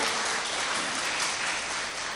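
An audience claps during a devotional talk on Hanuman, a dense, even wash of applause filling the hall without pause and with no speech over it.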